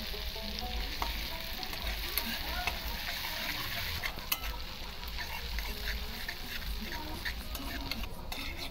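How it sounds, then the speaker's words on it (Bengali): Grated ginger frying in hot oil, a constant close crackling sizzle with faint stirring ticks throughout. "সেই ঘষা আদাটা আমি তেলের উপরে ভেজে নেব।"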